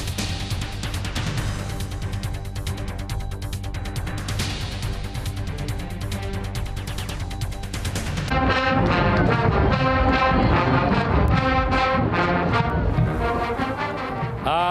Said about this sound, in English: The sound of a marching band.